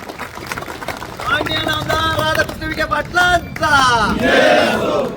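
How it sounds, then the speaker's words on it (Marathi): A crowd at a political public gathering cheers and shouts loudly for the guardian minister, rising in several bursts of massed voices over about five seconds. "एकदा जोरदार टाळ्या पालकमंत्र्यांसाठी आपण कराव्या"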